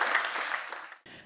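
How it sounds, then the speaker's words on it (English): A short burst of applause from a tech conference audience after a talk on Dapr cloud-native architecture, a dense patter of clapping that fades out within about a second. "Big round of applause."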